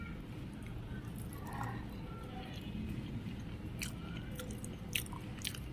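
Fish in mustard gravy is eaten up close, with quiet, soft chewing and faint wet squishing against a low background murmur.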